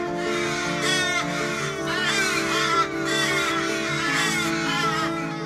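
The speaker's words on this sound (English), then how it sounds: "Whenever a crow dies, the other local crows fly to its body, surround the body, and begin to make loud mocking noises." Crows gathered around a dead crow, cawing loudly in repeated harsh bursts that overlap, close and continuous with a steady tonal hum underneath.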